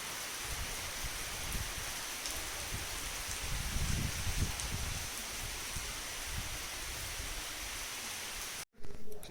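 Steady, dense rainfall with a broad hiss and occasional heavier patter, continuous and even, ending in a brief break and a short thump.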